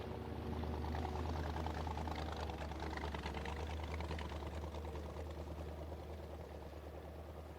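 A 15 horsepower outboard engine on a small boat drones steadily, its slipping, cavitating propeller giving a continuous buzzing, rattly hum that is close and moderately loud with no talk over it.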